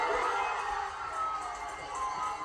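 Standing-room-only crowd at the Starting Point Bar and Grill cheering during a Little League World Series game: a distant, faint wash of shouts and whoops swelling and easing continuously.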